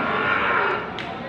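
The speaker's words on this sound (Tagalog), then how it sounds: "Oh, kalabaw oh. May kalabaw oh." A carabao, or water buffalo, at a livestock market gives a sustained, loud moo that fills the whole moment up close, set against busy market noise.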